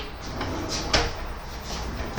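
Kitchen drawer with metal sides in an acrylic off-white cabinet set, sliding with a soft rumble and a sharper knock near the middle, a second bump at the end, over steady room noise.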